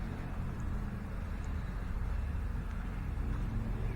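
A small car fitted with a camping kit drives through a forest in the Vosges, giving a steady low engine and road rumble from inside the cabin, quiet and continuous with no talking.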